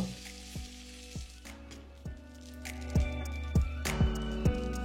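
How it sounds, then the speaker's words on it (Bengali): Chopped garlic frying in hot oil, with a continuous soft sizzle broken by repeated low knocks and scrapes from a utensil working the pan. "আর তেলটা গরম হয়ে গেলে দিয়ে দেবো 2 চা চামচ রসুন কুচি। তারপর ভালো করে ভেজে নেবো"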